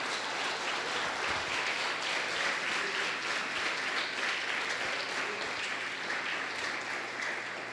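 A church congregation applauds during an evening service, steady, even clapping from many hands continuing throughout at moderate distance.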